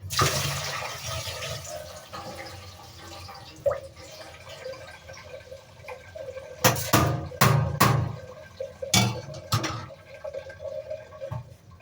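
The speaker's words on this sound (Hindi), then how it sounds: "पानी नितार लें" Water drained from soaking rice in a kitchen while making masoor aloo pulao, heard as a steady pouring and trickling flow with a few louder splashing gushes toward the end, and no speech.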